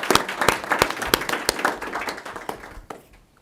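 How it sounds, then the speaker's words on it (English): Applause at a city council meeting in Keene: a small group claps briskly and steadily, moderately close, for about three seconds before fading out, with no voices over it. "So a little round of applause."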